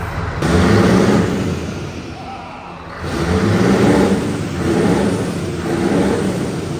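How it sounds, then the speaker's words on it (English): A large truck engine, cold, revs up and settles, then revs again in a couple of loud, rumbling surges heard close by. "Never rev a truck from cold."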